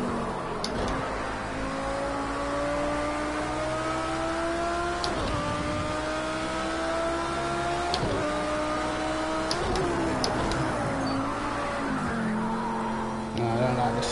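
A GT3 race car at Le Mans in Project Cars 2 holds a steady, loud engine drone that drops and climbs through gear changes. Tire squeal from sliding through corners runs under the engine note.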